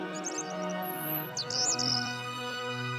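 A parrot chirps and whistles in short bright bursts at moderate distance, heard over a steady tonal musical background.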